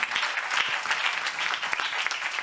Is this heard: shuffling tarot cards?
no